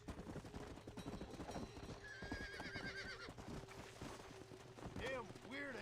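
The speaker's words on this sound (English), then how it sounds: "Oh, it's probably one of those legendary horses." In the Red Dead Redemption video game, a legendary horse whinnies several times over busy clip-clopping hooves and faint gunfire, all loud and close, while someone talks now and then.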